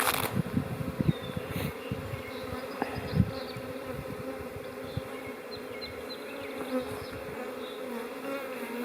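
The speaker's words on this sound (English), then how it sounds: "Now generally when bees swarm," A swarm of honey bees gathered on a branch buzzes steadily outdoors, dense overlapping droning with individual bees passing close now and then.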